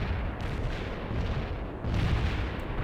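Heavy artillery fire in the World in Conflict video game, a dense, continuous rumbling barrage of booms with a brief lull and a renewed surge near the end.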